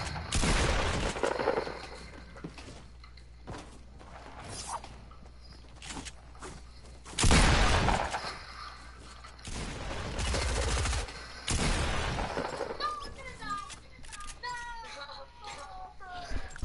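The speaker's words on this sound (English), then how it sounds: "Why is Colin shooting down?" Video game gunfire of a first-person shooter played with keyboard and mouse, with bursts of rapid shots and single cracks scattered among clicks and other game noise, while players talk over it.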